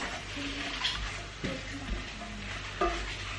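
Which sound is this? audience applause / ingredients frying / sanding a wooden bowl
ingredients frying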